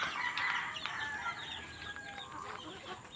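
Several chickens cluck and chatter nearby while feeding in rural Bohol, Philippines, with a rooster's crow rising briefly among them, over a faint outdoor background.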